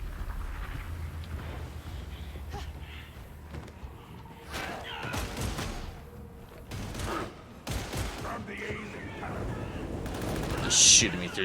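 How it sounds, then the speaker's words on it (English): Gunfire in the Warhammer 40,000: Darktide video game, repeated bursts of shots and thuds in a busy firefight, with a sharp louder crack near the end. "Just shooting me through the gates."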